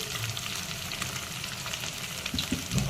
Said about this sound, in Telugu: దీన్ని కూడా మంచిగా పచ్చివాసన పోయేంత వరకు ఫ్రై చేసుకుందాం ఆనియన్ దీంట్లోనే